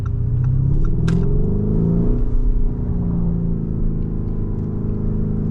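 A 2021 Lamborghini Urus SUV accelerating hard on the road, its engine giving a loud, deep rumble with rising revs, heard close and steady throughout.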